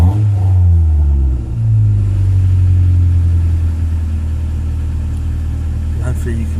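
Car engine idling with a steady low rumble, a brief dip and rise early on, from a car with a freshly cleaned idle control valve; close and fairly loud, running on alone without talk.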